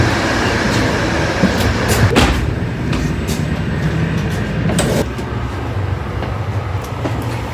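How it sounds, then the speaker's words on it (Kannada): Passenger train running on its tracks, heard from inside a carriage as a steady loud rumble with scattered knocks and clatter throughout. "ಫಸ್ಟ್ ಟೈಮ್ ಇಂಥ ಟ್ರೈನ್ ಒಳಗೆ ಹತ್ತೀನಿ"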